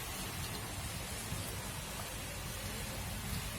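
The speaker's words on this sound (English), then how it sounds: "It's raining, I'm going to get wet." Rain falls as a steady, dense hiss with no gaps, close and moderately loud, and no voices are heard.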